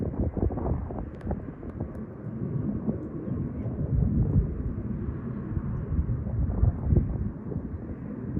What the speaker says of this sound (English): You can hear the roar of jet engines overhead.